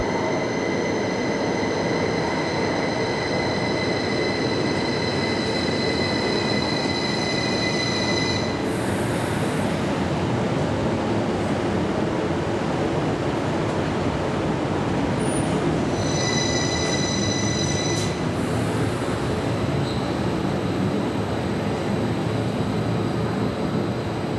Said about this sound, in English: Here comes a Class 332 operated by Heathrow Express.